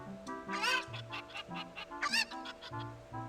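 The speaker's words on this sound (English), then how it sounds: "These 3 cuckoos I have are special super cuckoos." Cuckoos, the chickens of Ocarina of Time, give a run of clucks and squawks in two bursts over a steady low game music bed, close and moderately loud.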